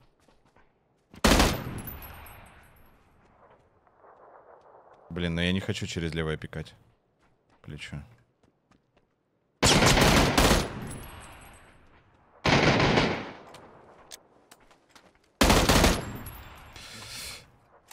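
Bursts of automatic fire from the Tapl gun in PUBG, several loud close rapid-fire volleys separated by pauses, with someone talking between the shots.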